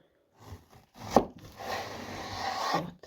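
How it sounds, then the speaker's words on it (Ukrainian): Knife slicing eggplant into thin strips on a cutting board, a sharp thud followed by a steady scraping cut, close and moderately quiet. "Зараз я їх поріжу полосками. Отак, тоненькими."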